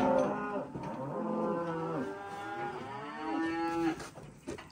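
Weaning-age calves being sorted on a farm moo repeatedly, several drawn-out bawling calls overlapping close by with no talk.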